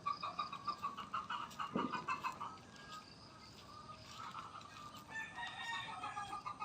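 Native Tagalog chickens on a small farm: a rooster crows loudly near the start, while hens cluck in steady, rhythmic bursts throughout, fairly close with outdoor background hiss and no talk.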